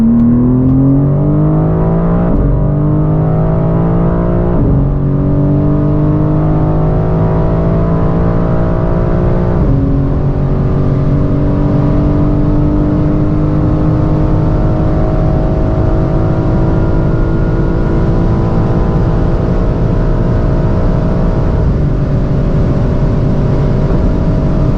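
A 550 hp BMW M4 CSL pulls hard from standstill to 300 km/h, the engine note rising loudly through a series of gear changes, each shift briefly dropping the pitch before it climbs again, heard from inside the car.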